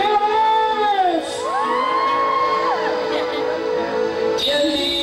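Women in a crowd shout and cheer together, with loud, sustained high whoops and sliding yells that rise and fall, then a fresh burst of cheering near the end.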